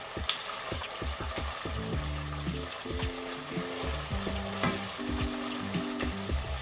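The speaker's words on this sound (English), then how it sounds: "And give it a real good stir." Porridge stirred in a pot gives a steady close scraping and bubbling texture, with low tonal hum running underneath throughout.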